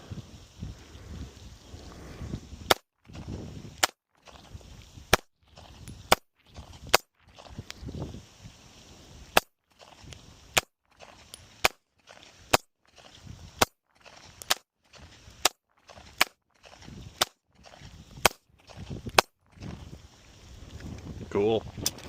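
Gunfire at an outdoor shooting range, likely from a Benelli M4 tactical shotgun or HK SP5, sounds as roughly twenty sharp, loud reports in an uneven rapid string, with wind and faint handling noise between shots.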